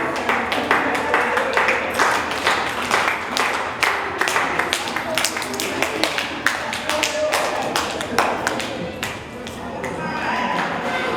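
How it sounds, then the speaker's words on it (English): Applause from a youth empowerment summit audience, steady scattered clapping through the whole stretch, with some brighter individual claps standing out against the crowd. "Give yourself a round of applause"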